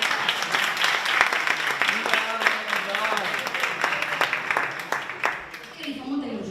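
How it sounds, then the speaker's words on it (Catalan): An audience clapping at a local festival performance in Massanassa, scattered sharp claps over a lively crowd with people talking and calling out over the applause. "Els aplaudiments, per favor."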